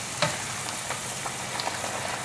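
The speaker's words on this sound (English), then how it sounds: "We're going to fry this" Shrimp fry in a pot of hot oil, a dense continuous sizzle and crackle with small popping bursts, close and fairly loud with no voices.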